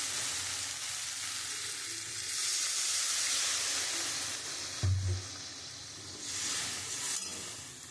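Hot spice masala for a rita fish curry sizzles and hisses in a pan as water is poured in, with a low splash partway through over a steady frying crackle.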